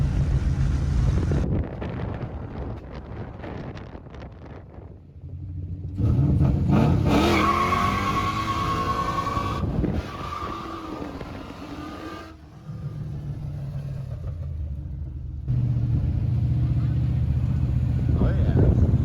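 A car driving with a new Monster clutch, engine rising and falling through gear shifts, with buffeting wind noise and excited talk from people inside.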